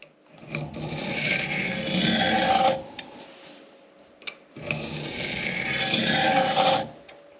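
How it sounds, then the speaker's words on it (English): Scribe dragged across clamped metal on a beach buggy chassis: two long, loud, gritty scratching passes separated by a brief pause and a couple of small clicks, close up. "so I can get a real good scribe all the way across there"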